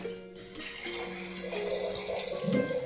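Water pours steadily into a fish tank filled with pebbles, a continuous close splashing and gurgling stream that grows fuller and louder toward the end.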